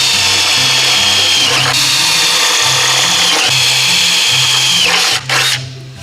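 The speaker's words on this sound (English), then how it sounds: "I'm going to go ahead and drill a couple holes here, and I'm going to drill a couple down there." A power drill whines steadily at close range drilling holes in metal at a body shop, its pitch dipping as it bites in, over a thumping background beat, stopping briefly near the end.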